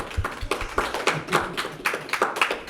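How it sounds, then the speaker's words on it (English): Scattered hand claps from a small group, irregular and fairly close, rising and falling in short bursts without any talking. "Applause for sure."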